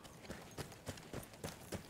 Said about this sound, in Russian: Ну, там еще одна лошадь.